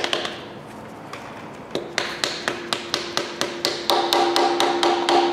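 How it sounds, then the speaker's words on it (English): Rubber mallet tapping a rear main seal into place on a Ford 302 small-block engine: a steady run of about fifteen sharp, evenly spaced taps, loud and close, growing slightly fuller toward the end, with no talking. "grab a little rubber mallet and just go around and evenly tap her in."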